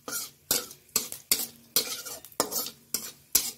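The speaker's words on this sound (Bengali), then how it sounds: "ফোড়ন দিচ্ছি" Sour dal being tempered with mustard seeds, dry red chilli and curry leaves, heard as a rhythmic series of about eight sharp metal ladle strikes and scrapes against a pot over a faint sizzle, close and clear, with no talking.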